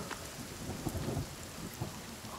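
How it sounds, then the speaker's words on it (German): Rain and thunder in the video game The Forest: a steady wash of rainfall with low rumbling thunder swells beneath it, heard alone without talk. "schöner Regen"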